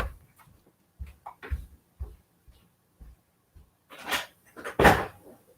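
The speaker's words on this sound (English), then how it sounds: "it sounds like it's being pulled from the bottom of the door" Something pulling and scraping at the bottom of a door, a string of light taps and soft knocks spaced about a second apart, then a louder burst of rubbing and bumping, close and quiet overall.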